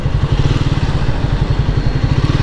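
Triumph Speed T4 motorcycle engine idles close and loud with a steady, rhythmic low thumping pulse and a slightly clattery mechanical edge.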